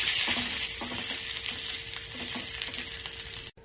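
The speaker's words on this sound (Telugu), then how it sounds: "చిన్నగా కట్ చేసుకున్న వెల్లుల్లిపాయలు కొద్దిగా కరివేపాకు ఒక పచ్చిమిర్చి వేసి ఇలా వేగనివ్వాలి" Chopped garlic, curry leaves and a green chili sizzle steadily in hot oil in a pan, a close, continuous crackling fry with faint stirring taps, ending abruptly.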